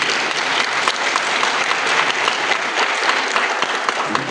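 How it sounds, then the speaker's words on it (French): Audience applause honouring Mohamed Maouche, former player of the FLN team, at a ceremony in Tizi-Ouzou: a loud, continuous, dense crowd clapping that holds steady throughout without speech. "Je vous demande de l'applaudir."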